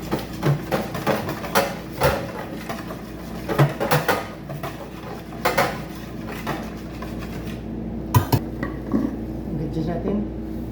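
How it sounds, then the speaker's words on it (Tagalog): A large spoon stirring beef scallop in a pan, with repeated clanks and scrapes against the metal at an uneven rhythm, close and fairly loud, and a faint hum underneath. "Tapos haluin."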